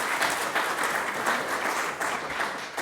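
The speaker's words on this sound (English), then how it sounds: "Brian, you are applauding." An audience at a Kings Langley election hustings applauds steadily and densely for the full stretch, a close, even wash of many hands with no voices over it.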